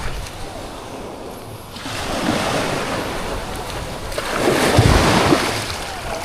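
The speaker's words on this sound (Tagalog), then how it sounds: "malakas ang alon" Heavy sea waves surge and crash in two big swells amid steady wind rush, loud and close.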